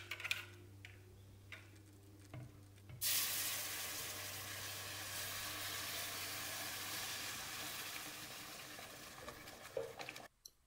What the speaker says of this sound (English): add in the egg milk mixture, and you will hear it sizzling